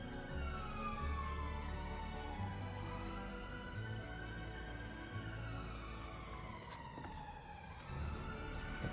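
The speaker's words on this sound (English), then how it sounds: "Sorry about the sirens." Police sirens wail outdoors, a continuous rising and falling tone that sweeps steadily throughout, fairly loud and persistent with no talking over it.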